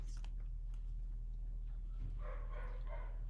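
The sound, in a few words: dogs barking in the house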